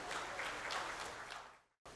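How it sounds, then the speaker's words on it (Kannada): Applause from a conference audience at a state-level Kannada HR professionals' meeting, a brief dense patter of clapping that fades out after under two seconds. "ಬರಲಿ ಮತ್ತೊಮ್ಮೆ ಜೋರಾದ ಚಪ್ಪಾಳೆ"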